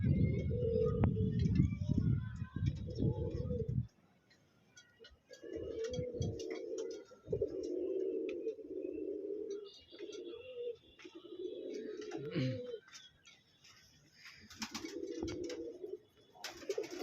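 Two Red Checker pigeons coo in low, soft repeated phrases, close by, with short pauses between calls and faint background noise.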